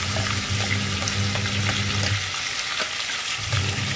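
Ground chillies sizzle in hot oil for a Goan-style tempering while making canyachi ustal, a loud continuous frying hiss with a few stirring scrapes and no talking.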